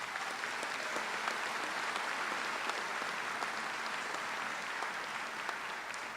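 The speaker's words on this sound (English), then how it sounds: "I'd like to give them a thunderous round of applause as well" A graduation crowd for Flagler's Class of 2017 claps for the graduates' families, producing a sustained, fairly quiet and even roar of many hands that holds steady for several seconds without speech.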